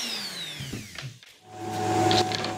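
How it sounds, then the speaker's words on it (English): An electric sander with 80 grit sandpaper distressing dried paint on the edges of a wooden end table, a steady whirring motor that dips briefly, then returns louder with grinding friction, close up. "When distressing with the sander, I focus on the edges and the corners"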